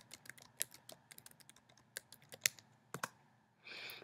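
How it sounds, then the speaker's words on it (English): A password being typed on a computer keyboard: a quick, irregular run of soft, close key clicks with a few louder taps, quiet overall, ending in a short rustle, with no talking. "Then you're going to want to type in your password."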